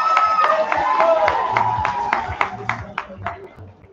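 Audience applause in a school hall during a first-year students' ball at a Romanian high school, moderately loud clapping that thins out toward the end with a voice talking over it.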